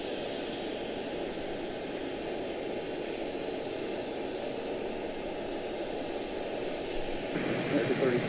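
An Etihad Airbus A350-1000 at Charlotte-Douglas International Airport gives off a steady, distant jet roar that holds evenly and swells slightly louder near the end.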